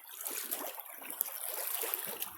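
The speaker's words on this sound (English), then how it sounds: "I may have too much flow going through my" Water rushing steadily through a gold sluice box, a continuous broadband splashing and trickling flow, fairly close and unbroken with no voices.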